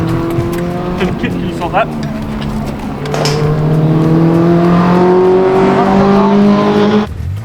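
A 40-year-old Toyota race car in an endurance race drones loudly and steadily throughout, engine pitch rising and holding with brief squeals, while a voice talks over it.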